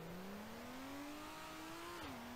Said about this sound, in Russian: Да, как у нас передачи переключаются.